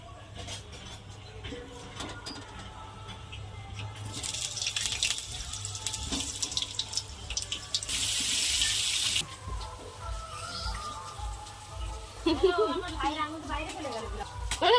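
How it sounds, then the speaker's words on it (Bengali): A timed water tap runs in a steady gush that swells and fades while people talk nearby. "টাইম কলে স্নান করছিস? টাইম কল ব্রাশ করছে আবার।"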